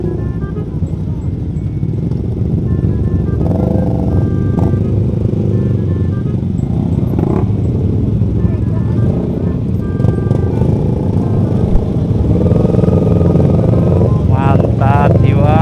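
Several motorcycles idle and rev at a Sunday morning group ride meetup. The engines run continuously, loud and close, with people talking over the steady rumble throughout.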